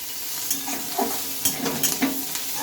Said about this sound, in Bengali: এবার একটু আমি ভালোভাবে নেড়ে চেড়ে ভেজে নেবো